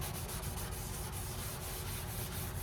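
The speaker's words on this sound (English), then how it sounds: "So you can take some white vinegar and your Scotch-Brite." Scotch-Brite pad soaked in white vinegar scrubbed over the rusty front floor pan of a 1989 Mustang, a steady continuous rubbing scrape with no talk.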